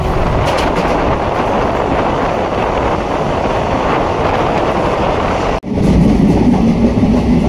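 Riding aboard a moving passenger train: a loud, continuous rumble and rattle surrounds the listener, with a brief sharp dip near the end before the steady roar resumes.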